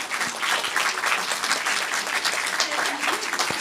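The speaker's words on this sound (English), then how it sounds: "Maybe applause again," An audience at a livestreamed celebration bursts into dense, sustained applause, a close and even clatter of many hands with no break.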